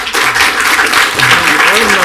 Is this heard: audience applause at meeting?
yes